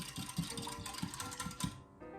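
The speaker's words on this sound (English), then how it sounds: "Give it a whisk." Whisk beating essence into milk in a bowl for coconut buns, a quick even series of light rhythmic taps and swishes, close and soft, without speech.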